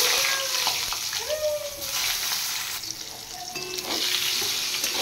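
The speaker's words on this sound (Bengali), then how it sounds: "এবার আমি বেগুন ভেজে নেব" Eggplant slices frying in hot oil in a pan seasoned with dried red chilli, bay leaf and whole cumin, a steady loud sizzle and crackle running throughout with faint tonal kitchen noises mixed in.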